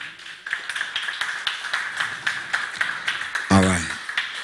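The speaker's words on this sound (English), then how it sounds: "Now that was a weak round of applause." A thin, weak round of applause from a lecture audience, sparse scattered claps repeating steadily for a few seconds, with a brief voice breaking in near the end.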